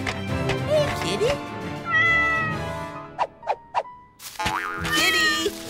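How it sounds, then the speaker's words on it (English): A stuck kitten in a tree gives several short, close, pleading meows between bursts of cheerful music and playful cartoon effects, with a voice speaking nearby. "Sounds like a cat needs help! It's in a tree!"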